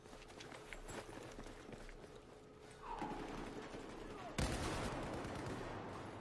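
Gunfire in Battlefield 4 on the Zavod 311 map, with an SAR-21 assault rifle in a team deathmatch: a dense, continuous rattle of shots runs throughout, with a loud burst near the end and a voice talking underneath.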